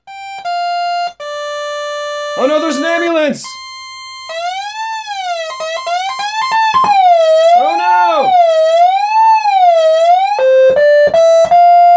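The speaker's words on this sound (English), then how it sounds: "Oh no, there's an ambulance!" An Arduino-built electronic siren horn plays an ambulance siren, wailing loudly with its pitch sweeping up and down in wavering cycles, with a few short tonal beeps before and after.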